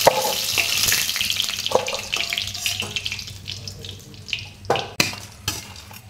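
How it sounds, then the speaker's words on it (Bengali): Mushroom pakoras frying in hot oil for chilli mushroom make a steady, close sizzle with a few sharp spatters and stirring knocks toward the end, and no talk over it. "এইভাবে আমি মাশরুমগুলো সব ভেজে নেব, খুব বেশি লাল করবো না।"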